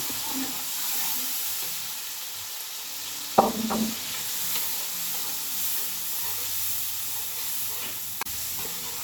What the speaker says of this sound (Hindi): हरी मिर्च, प्याज और टमाटरों को अच्छी तरह से भूनने में